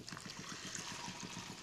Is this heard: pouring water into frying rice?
yes